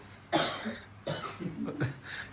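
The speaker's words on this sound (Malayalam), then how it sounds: "ചുമച്ചോണ്ട് കരയുന്നു" Three separate bouts of coughing, each a sharp harsh burst followed by a rasping tail, close and fairly quiet with no talk.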